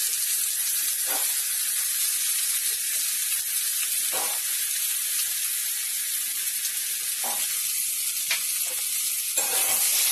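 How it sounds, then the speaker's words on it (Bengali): Thick-cut eggplant pieces fry in hot oil with black cumin over a high flame, giving a loud, continuous close sizzle with occasional soft stirring knocks and no voices. "বেগুনগুলো আমি এখানে সব দিয়ে নেবো, দিয়ে হালকা একটু ভেজে নেবো বেগুনগুলো।"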